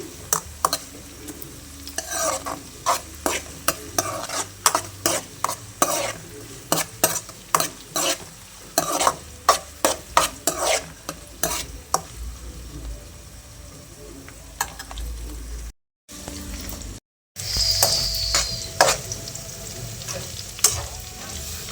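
A spatula stirs onions softening and sizzling in a pan for a ridge gourd and dried fish curry, with repeated scraping strokes over a steady fry, loud and close, pausing briefly near the end.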